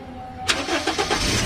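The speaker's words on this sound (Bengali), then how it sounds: "তো আবার আমি স্টার্ট করে দেখাচ্ছি।" Toyota Hiace van engine started with the key: low idle hum, then a sharp crank that catches into a few rough, pulsing revs before settling, heard close and clear with no talking.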